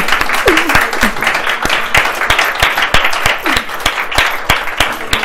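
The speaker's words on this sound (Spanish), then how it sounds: "Un aplauso." An audience at a women's church gathering applauds a handmade model of the Tabernacle of Moses, with lively, close clapping and a few sharp individual claps standing out. Brief vocal exclamations rise through the applause.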